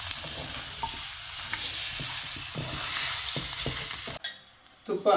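Chicken sizzles loudly while frying in a pan for a milky chicken dish, steady crackling hiss with stirring scrapes, then a sudden cut to quieter sizzle near the end.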